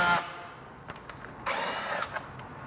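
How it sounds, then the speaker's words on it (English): Power drill backing screws out of a damaged Vespa GTS scooter legshield, short bursts of high whirring with small clicks between them, close and clear. "just go right to getting the screws off"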